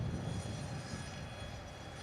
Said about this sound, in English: your baby, the A350-1000, has just completed a beautiful flight by a beautiful airplane